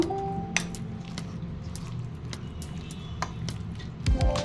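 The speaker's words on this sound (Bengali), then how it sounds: "আবারও চামচের সাহায্যে ভালো করে উপকরণগুলো মিশিয়ে নেব" A spoon mixing gram flour batter in a bowl, giving soft wet squishing and stirring sounds with a few light clicks of metal against the bowl, close and fairly quiet.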